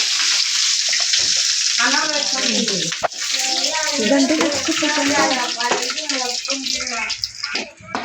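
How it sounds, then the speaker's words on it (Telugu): Mustard seeds, cumin and curry leaves fry in hot oil in a pan for tomato rice. A loud, close, continuous sizzle and crackle runs throughout while a voice talks over it. "ఆవాల గింజలు హాఫ్ అయితే వేసుకోవాలి. ఇంకా నెక్స్ట్ అయితే కరివేపాకు వేసుకోవాలి."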